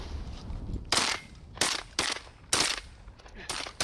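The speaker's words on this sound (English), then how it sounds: "Nice shooting, boys." Shotgun blasts ring out during a late-season goose hunt in Ontario, about six sharp, loud shots in irregular bursts, some close together, with faint voices and outdoor noise between them.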